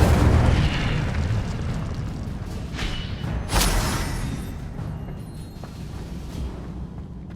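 Incendio fire spells are cast in the video game Hogwarts Legacy, giving a rumbling, whooshing burst over a dense background of game sound, with a sharper flare partway through that fades away.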